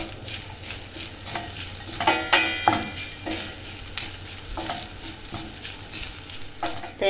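Chopped cashew nuts fry in a pan for kozhukkatta filling, a steady sizzle broken by several loud scraping stirs and clanks of the utensil against the pan, close and clear with no talking.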